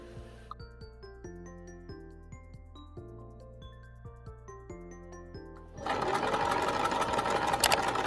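Tonal notes play at first, then a sewing machine stitching fabric cuts in suddenly, loud and close, as a dense steady whir of rapid needle strokes.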